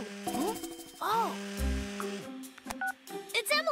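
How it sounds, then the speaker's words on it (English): A cartoon phone chimes with a short electronic notification tone, mixed with character voices and bright tonal effects in an animated superhero scene. "Rex, you should check your phone!"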